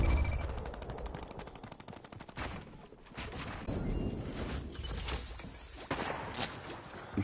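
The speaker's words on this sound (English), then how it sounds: "I can hear the gunfire." Distant gunfire in a battle royale video game, a muffled crackle of shots and rattling bursts spread across the stretch at low level.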